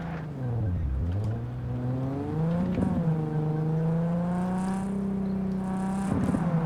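A car in Cyberpunk 2077 pulls away, its engine note climbing and dipping through a couple of smooth gear changes, with a steady whir and rev close by.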